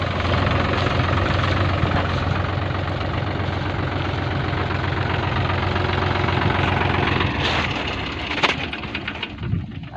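A tractor engine idles close by with a steady, continuous low rumble, loud and unbroken for most of the stretch before some brief rattling knocks near the end; birds may be faintly audible in the background.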